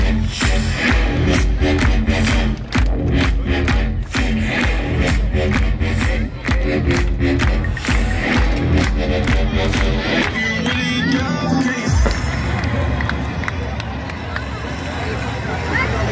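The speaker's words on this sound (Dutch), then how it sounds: "Geef hem een waanzinnig groot applaus." A loud stadium crowd cheers and applauds at Ajax's 2018 open day as a player is introduced, a continuous dense roar of many voices with music or announcements mixed in, shifting in tone near the end.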